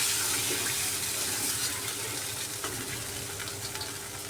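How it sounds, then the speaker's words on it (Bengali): Water gushes steadily into a pan of frying spice paste close by, a continuous rushing hiss with faint bubbling and small pops, fading slightly toward the end. "এখানে মশলাটাও কষানো হয়ে গেছে দিয়ে দিলাম জল"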